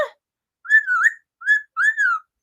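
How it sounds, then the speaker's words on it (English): A person whistles to a talking bird, giving a few short rising and falling whistled phrases with brief pauses between them, clear and close. "You're just gonna keep whistling the whole time?"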